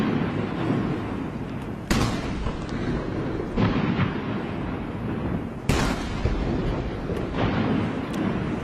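Eighty ceremonial cannons at a Chinese military parade firing in spaced salvos, each a sharp booming report that rolls away into a long echoing rumble, loud and repeated about every two seconds.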